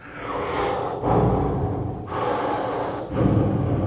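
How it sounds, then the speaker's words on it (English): Heavy, close breathing in four long waves, each inhale and exhale rushing loudly with airy noise, no voices. "You make a lot of noise when you breathe"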